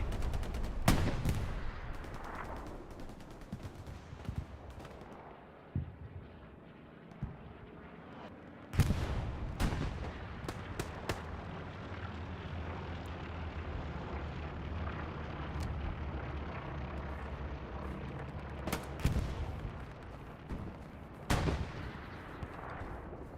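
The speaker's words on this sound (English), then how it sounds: "One rocket falls just a little bit short." Rocket artillery in Hell Let Loose landing short, several sharp booming impacts spread across a busy battlefield, with distant gunfire and rumble between the blasts, faint voices now and then.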